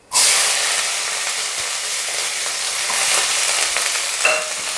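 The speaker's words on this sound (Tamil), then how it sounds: "போட்டதுக்கப்புறம் சின்ன வெங்காயத்தை போட்டுடலாம்." Small onions (shallots) hit a hot pan with oil for Chettinad chicken chukka, bursting into a loud, sustained sizzle and hiss that holds steady, with faint stirring clatter.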